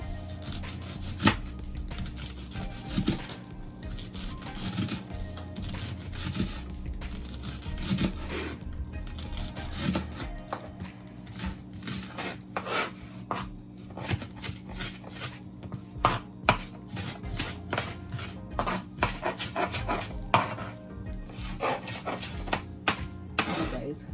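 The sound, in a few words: slicing fresh seasoning vegetables small on a cutting board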